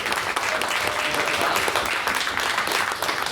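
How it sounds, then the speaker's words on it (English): Applause at a student society debate after thanks to a member who represented the Society at the Oxford Union, dense steady clapping throughout with no talk over it. "I think a round of applause especially."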